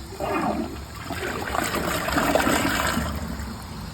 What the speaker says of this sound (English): So I'm giving it a normal water line flush.